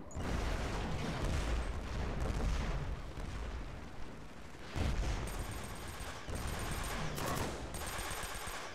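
Mortar strike explosions in the video game Killzone 3, heard as a dense, continuous roar of blasts and rapid gunfire, loud and unbroken throughout, with heavy booming low end and no speech.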